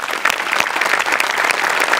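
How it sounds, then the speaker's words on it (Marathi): A studio audience at a Marathi comedy show claps loudly and steadily for the guests, a dense, continuous burst of applause with no voices over it. "गेस्ट आपले जे आज आले आहेत त्यांच्यासाठी एकदा जोरदार टाळ्या वाजवूया"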